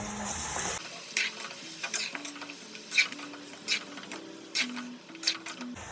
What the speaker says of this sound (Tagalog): Kaya ilagay na natin ang pork na binabad ko sa toyo at ketchup.